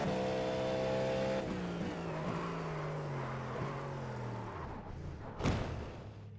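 Race car engine in the iRacing sim during a multi-class race, revving high then dropping as the car brakes and dives deep into a corner, steady drone with a sharp burst near the end.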